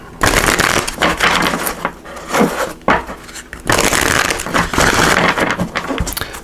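Enchanted Map Oracle cards by Colette Baron Reed being shuffled by hand, a steady papery riffling and slapping that runs almost without pause, with brief dips between bursts of shuffling.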